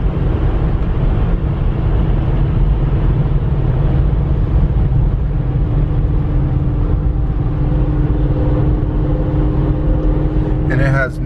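A V8 VW Touareg towing a load accelerates onto a freeway at partial throttle, its steady engine drone and road roar loud and continuous throughout, with a brief rattle near the end.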